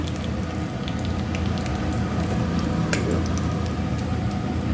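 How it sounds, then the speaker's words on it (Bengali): Whole cumin seeds and dried red chillies sizzling in hot oil with potatoes added, giving a steady, dense crackle and hiss close by with a few sharper pops and no talk. "তেল গরম হয়ে রয়েছে আমি গোটা জিরে দিয়ে দিলাম ফোড়নেতে আর এই শুকনো লঙ্কাগুলো দিয়ে দিলাম"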